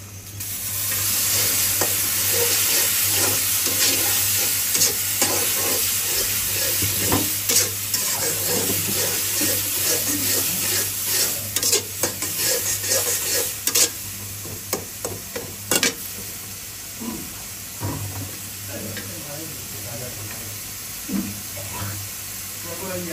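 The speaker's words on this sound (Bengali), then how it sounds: "ডাইল বোনা করতেছে, চিংড়ি মাছ বোনা করতেছে" Shrimp fry in a pan with a loud steady sizzle, while repeated scraping stirs and clatters of the utensil come and go, with occasional talking nearby.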